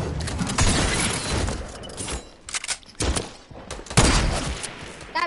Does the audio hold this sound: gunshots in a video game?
yes